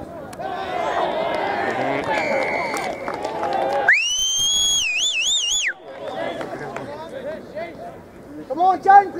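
A referee's whistle at a youth under-16 rugby match gives one long shrill blast with a warbling trill. Crowd chatter and shouting fill the field around it, and later whistle chirps come amid the noise.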